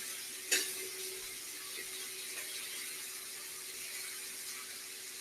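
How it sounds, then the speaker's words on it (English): Pork chops sear in a hot pan with a steady, faint sizzling hiss and a high thin squeal, plus one brief sharp clatter near the start. "That's what a good sear looks like"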